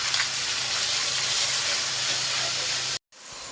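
Hot oil in a pan with fried onions hissing in a loud, steady broadband sizzle that cuts off abruptly near the end, then resumes more faintly.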